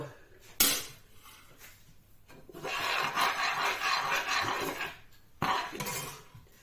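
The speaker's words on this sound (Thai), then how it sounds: "สิมาเริ่มพัด กระเทียมเจียว" Fried garlic being stirred in a pan for a Thai stir-fried thin rice noodle dish, giving a raspy scraping and sizzling texture with a sharp clatter near the start and another near the end, no talking.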